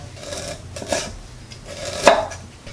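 A knife slices peeled ginger into thin pieces on a board, giving a few separate rasping cuts and a sharper tap near the end, close and clear with no talk.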